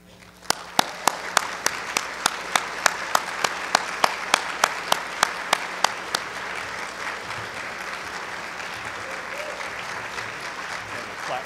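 An audience at a 2011 accountants' award ceremony applauds the Outstanding Member in Industry recipient. A few loud, evenly spaced claps up close lead into dense, sustained applause that carries on steadily to the end.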